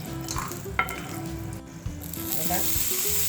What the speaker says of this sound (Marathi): आता शेंगदाणे तळून घेऊयात आपण शेंगदाणे खमंग तळून झालेत